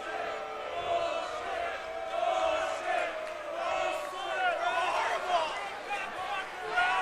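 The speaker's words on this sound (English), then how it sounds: "the crowd behind us shouting something like bullpucky or something" A large basketball crowd yells and roars in a packed, renovated 70-year-old arena during a Marquette at Tulane game, with the shouting swelling and falling in waves and voices talking over it.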